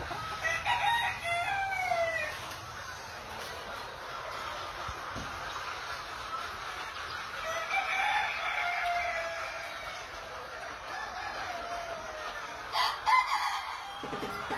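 Elba chickens kept in bamboo-floored battery cages for rearing birds over one month old, with roosters crowing several times and hens clucking throughout, moderately near, with no speech.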